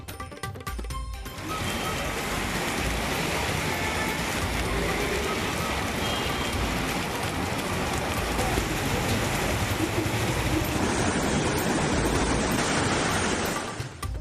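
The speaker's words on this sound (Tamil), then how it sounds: "குஜராத், மகாராஷ்டிரா உள்ளிட்ட மாநிலங்களில் வெளுத்து வாங்கும் கனமழை" Heavy monsoon rain in Gujarat or Maharashtra pouring down in a steady, dense hiss, starting after a brief quieter moment and continuing loudly until it cuts off.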